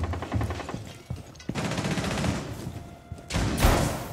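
Gunfire in Rainbow Six Siege on the Outback map, with rapid automatic bursts that come in several loud stretches separated by short gaps. The shots sound close and dominate, and no voices are heard.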